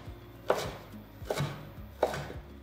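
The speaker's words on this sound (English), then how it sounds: "I'm just gonna give my herbs a rough chop just to help my blender out a bit" Three separate knife chops through fresh herbs land on a cutting board, spaced roughly evenly, crisp and close with a quiet background.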